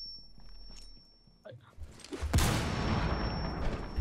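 A grenade goes off in Rainbow Six Siege, with a few quiet footsteps and clicks followed by a sudden loud blast and a rough, lingering rumble of debris.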